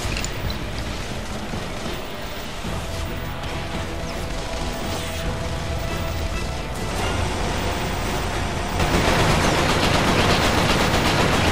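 Sustained gunfire in the shooter game Resistance: Fall of Man, dense rapid machine-gun bursts and crashing impacts rattling continuously, growing louder and harsher toward the end.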